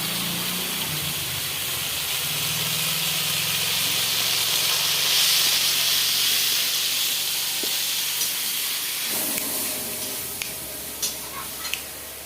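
Chilli powder and turmeric fry in hot oil in a pan, giving a loud, broad steamy hiss that swells and then suddenly drops to a quieter sizzle, with a few light clicks of utensils near the end.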